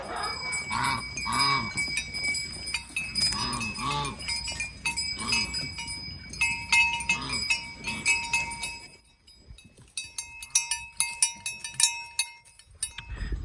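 Sheep on a farm bleat repeatedly, mixed with clinking bells and other livestock calls nearby, then the bleating drops away, leaving sparse metallic clinks and scattered animal sounds.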